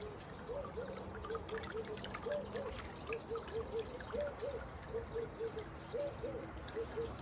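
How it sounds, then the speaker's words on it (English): Water trickles and drips steadily from wet paper pulp through a kitchen sieve, a faint, quiet stream with a soft repeating rhythm of drops. "I am letting it drip out"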